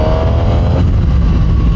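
A brand-new 2023 Suzuki GSX-R1000 engine pulls hard under heavy load during break-in riding, giving a loud, constant, close engine drone with no pauses or voices.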